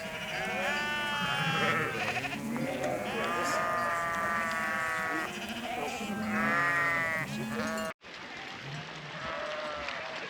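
A flock of sheep bleats repeatedly and overlapping, many animals calling near and far while being herded across water, with a person talking quietly beneath and an abrupt cut partway through.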